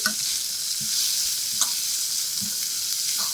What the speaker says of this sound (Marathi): कांदा आता मस्तपैकी सोनेरी रंगावर परतून घ्यायचा